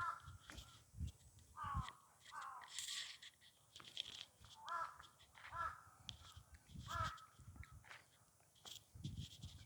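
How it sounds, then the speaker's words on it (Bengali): Crows caw repeatedly in scattered bursts, fairly close, with some background rustling and faint voices between calls. "শালার কাক ডাকে সারাদিন"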